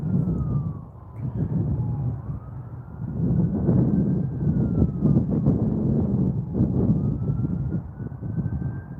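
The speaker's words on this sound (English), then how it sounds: "Sirens going around the airport at the moment" Emergency vehicle sirens wail around an airport as a fire engine crosses the field, the rising and falling tones sounding moderately distant over a steady low rumble of engines and traffic.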